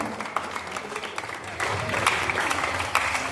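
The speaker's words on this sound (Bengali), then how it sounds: "একবার ধরে হাততালি হয়ে যাও।" Audience applause at an award felicitation ceremony for a Kolkata football academy, a dense, steady patter of many hands clapping that swells louder partway through, with faint crowd murmur beneath.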